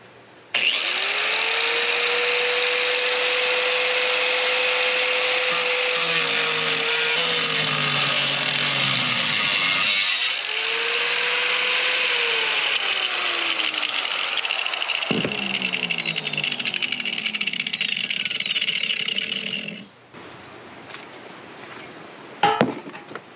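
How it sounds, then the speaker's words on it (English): A Ryobi angle grinder with a cutting disc bites into a metal intake manifold, a loud sustained whine that dips and rises in pitch as it loads up, running nearly twenty seconds before spinning down. "Ryobi grinder here with some cutting disc on them, and I'm going to start going to town on this bad boy"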